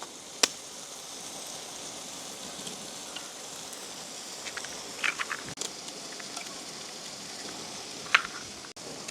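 Leeks and carrots sauté in a pan during village cooking outdoors, giving a soft, continuous sizzle with a few scattered clicks and taps from utensils, close and moderately quiet, with no talking.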